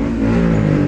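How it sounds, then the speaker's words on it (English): A noisy motorbike revs on a street in Lytham, a loud, close, rough engine roar with a steady low throb lasting about a second. "Tell me about the noisy motorbike."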